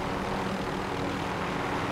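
Helicopter in the video game Warzone droning steadily overhead, a continuous broadband rotor and engine roar at constant loudness throughout, with no talk.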